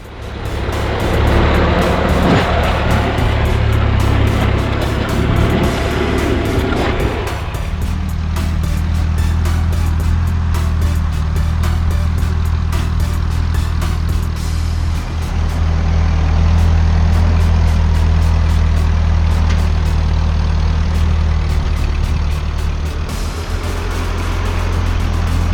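A 1948 Ford tractor engine works steadily while dragging a blade to clear land, a continuous loud low rumble with a brief rougher stretch at the start, heard from close by with no talk.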